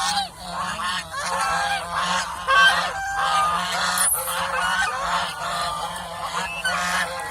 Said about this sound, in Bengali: এই যে আরেকটা টোপলা হাঁস এটাও দেখাইতেছি